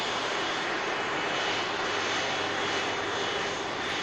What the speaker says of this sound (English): have a look at this Virgin Atlantic A330 in from Atlanta